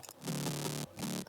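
A gritty, distorted synth bass plays two sustained notes with a short gap, buzzy and saturated across the range, heard alone.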